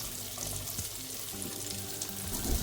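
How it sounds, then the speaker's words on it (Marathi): Kingfish fries in hot, splattering oil in a home kitchen, giving a soft, steady hiss and sizzle with scattered crackling pops. "मातशें तेल उडयता."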